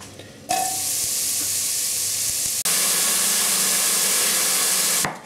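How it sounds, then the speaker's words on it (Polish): Mushrooms hit hot oil in a pot with a loud, steady sizzle that flares up midway and keeps crackling close by until it cuts off. "Do rozgrzanego garnka wlewam a mniej więcej 3 łyżki oleju i wrzucam pieczarki."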